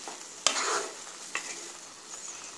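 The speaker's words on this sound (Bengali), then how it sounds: "দিয়ে ভালো করে নেড়ে দিলাম।" Spoon stirring vegetable oats with coriander leaves in a pan, a sharp scrape followed by a soft sizzle and a second lighter stir, close and quiet.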